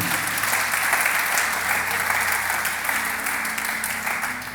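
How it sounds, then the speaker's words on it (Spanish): Steady, dense applause from a church congregation fills the whole stretch, a continuous even wash of many hands clapping without pause. "Puede darle los aplausos al Señor si gusta, claro que sí."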